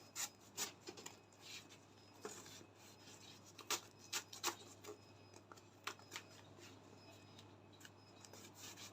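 Red limb boning is fed into the channels of a structured corset, producing quiet irregular rubbing and scraping strokes with soft taps, close and faint, with no talk.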